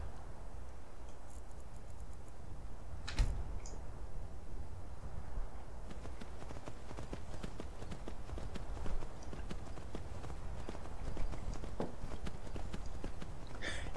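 A horse's hooves clip-clop in a steady, even gait while it is ridden in Skyrim, fairly close, over a quiet bed of background game ambience.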